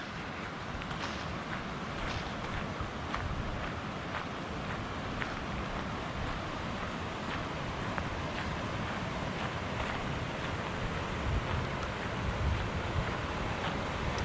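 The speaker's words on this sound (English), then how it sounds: "I don't know if you guys can hear the water." Steady rushing water fills the scene, a continuous broadband wash with light wind noise, fairly faint and even throughout, no voices.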